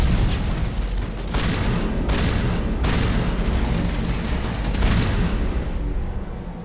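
Loud, dense gunfire from a weapon in the video game Mass Effect 1 during a combat fight, sustained booming volleys with a few sharper cracks standing out, continuous and close.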